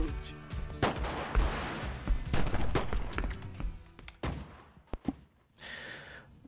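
Repeated gunfire cracks at a shooting range in GTA Vice City, a dense, loud burst of shots and thumps through most of the moment, then a brief quieter tail with a short hiss.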